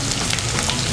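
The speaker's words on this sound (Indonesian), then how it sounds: "Kita tumis bawang merahnya sampai wangi, tapi jangan sampai terlalu gosong ya." Shallots sautéing in a pan with turmeric, ginger and galangal for a vegetable ketupat dish, giving a steady close crackling sizzle throughout the brief moment.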